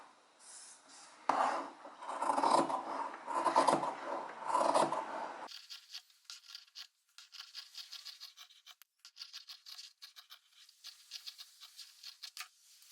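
Scissors trimming excess fabric at a seam: first a louder stretch of rasping, rubbing fabric handling, then a quieter run of short, rhythmic snips and crisp cuts, close up with no talk.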